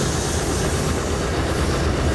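An EJ&E SD38-2 locomotive rolls past on the rails with a loud, steady rumble and clickety-clack wheel noise that fills the whole stretch.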